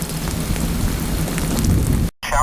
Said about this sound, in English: rain started coming across this field. And it's just a light rain right now